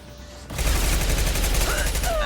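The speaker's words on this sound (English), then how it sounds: "I'm shooting the bad guys." Dense, continuous gunfire from the Mass Effect 2 video game bursts in after a short quiet lead-in, rapid overlapping shots sustained loud and close with a faint voice underneath.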